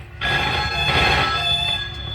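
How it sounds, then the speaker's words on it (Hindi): A telephone bell rings steadily and loudly close by, a continuous metallic trill lasting about two seconds with no one speaking over it. "देखना तो किसका फोन है"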